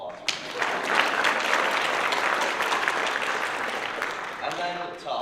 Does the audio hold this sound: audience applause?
yes